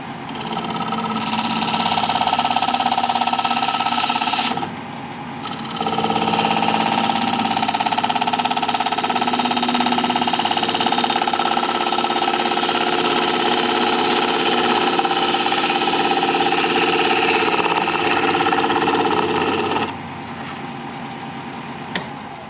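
A wood lathe spins a flower pot blank at about 1000 RPM, a sustained loud whirring hum with tonal whine that drops out briefly twice as the tool lifts off, with no talk.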